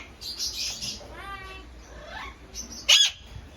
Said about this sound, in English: Do you hear the squawking? It's the cockatoo that's saying I love you.